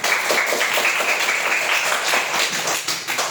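Students in a classroom clap for their classmates after a poster assignment, a lively burst of many hands at close range that holds steady for a few seconds with no talk.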